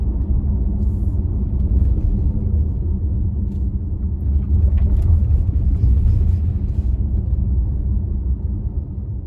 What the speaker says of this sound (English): You can just hear the little electric motor behind me whizzing away as we go up this hill.